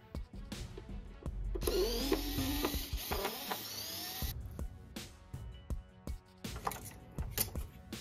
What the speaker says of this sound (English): Now we can remove this aluminum bottom panel by loosening 4 screws.